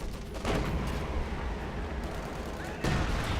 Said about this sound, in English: Got a bit of artillery going up versus the Greyhound.